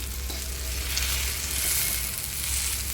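Green chillies frying in a pan for pickle, a steady close hiss and sizzle that continues without pause, with faint stirring underneath.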